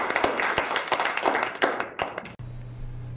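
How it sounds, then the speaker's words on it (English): Scattered audience clapping after a presentation, a few dozen hands tapping unevenly for about two seconds before cutting off abruptly into a low steady hum. "Let's give him another round of applause."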